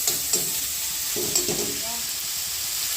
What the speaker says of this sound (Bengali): পোল ছাতা ভাজা হচ্ছে লবণ আর হলুদ দিয়ে।